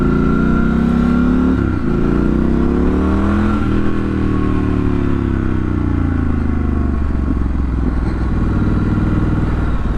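A Triumph Scrambler 1200 XE motorcycle is ridden on the road. Its engine note rises and drops through a few gear changes under a constant rush of wind, loud and close throughout.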